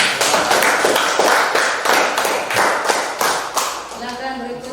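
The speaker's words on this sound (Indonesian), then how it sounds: "Berikan aplaus ya." A classroom group claps for a presenting team in rhythmic, close, fairly loud bursts, and a voice begins speaking as the clapping fades.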